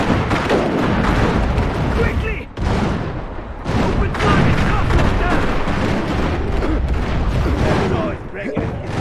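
Iron Harvest battle noise: continuous gunfire and booming artillery rumble loudly for the whole stretch, with shouted in-game voices over the din.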